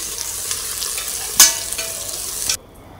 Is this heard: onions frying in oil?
yes